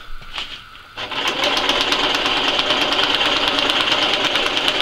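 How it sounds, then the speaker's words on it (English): A sewing machine stitches a folded DPM camouflage tarp, starting with a few slow stitches then running into a fast, steady mechanical whir, close and loud. "Bit of a mistake about using the sewing machine"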